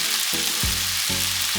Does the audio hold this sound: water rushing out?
no